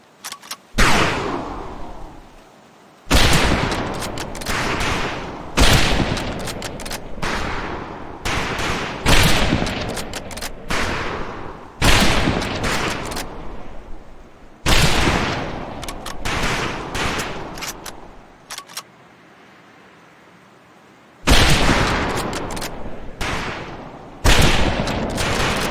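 Rifle fire on a training shooting range in Medal of Honor: Pacific Assault, with loud close volleys of rapid gunshots in repeated bursts separated by short pauses, with no talking.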